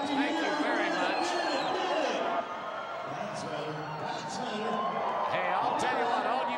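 Large arena crowd at a 1992 Bull Riders Only bull riding event in Rapid City, South Dakota, a steady broad roar of cheering and chatter, with an announcer's voice carried over it.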